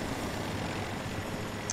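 Jet aircraft engine in the video game Battlefield 2042, a steady, broad roar that holds at an even level throughout, with no voices.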